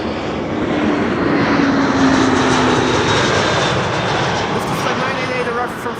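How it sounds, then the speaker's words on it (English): A Lufthansa Airbus A321 arriving at Amsterdam Schiphol from Frankfurt gives a steady, loud broadband jet roar that holds for the whole stretch, with a faint voice underneath. "Lufthansa 988 arriving from Frankfurt. It's an A321"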